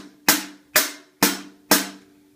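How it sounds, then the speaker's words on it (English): Drum kit hi-hat struck four times at an even, steady pace, each hit a bright, crisp metallic splash that fades quickly, close and alone. "So the first part we have here is going to be the hi-hat."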